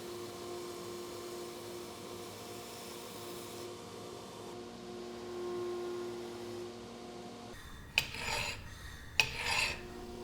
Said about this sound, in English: I'm first setting the fuller so that it's easier to grind without the grinder slipping out of the groove